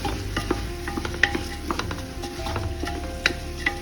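Masala mixture for Kashmiri pulao is stirred in a pan, with rhythmic spoon scrapes and clicks over a constant low sizzle, close and fairly loud.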